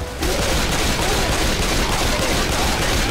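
Rapid, dense gunfire erupts in the video game Left 4 Dead 2, a loud continuous volley of shots that starts abruptly and keeps going without a break.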